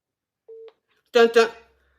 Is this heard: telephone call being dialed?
yes